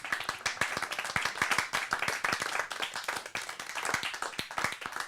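A small audience at a songwriters' evening claps warmly, dense, close applause that holds steady for several seconds.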